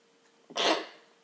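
A single short, sharp sneeze bursts out close by, brief and alone against near silence.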